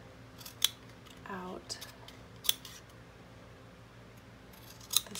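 Scissors snip through ribbon in three crisp, separate cuts spread a couple of seconds apart, close and clear, with a brief spoken word between them in a quiet room.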